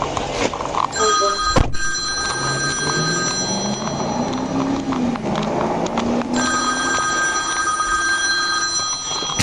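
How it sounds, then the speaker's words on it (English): An old-style telephone bell ringtone rings in steady repeating bursts, loud and close, over rumbling background noise, with a brief thump partway through. "Who still has that type of ringtone?"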